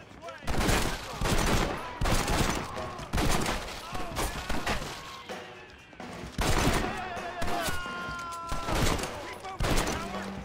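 Gunfire in Red Dead Redemption, dense volleys of rapid shots in repeated bursts with short lulls between them, loud and close, with game characters talking between the bursts.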